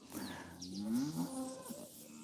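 A cow moos close by: one long, drawn-out, wavering low call that rises and falls before trailing off, with no other sounds.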